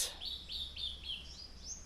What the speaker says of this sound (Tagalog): Ganda pakinggan, no, yung mga ibon, no?